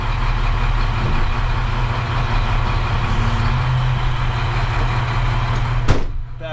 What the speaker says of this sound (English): So anyway, let's get this truck outside.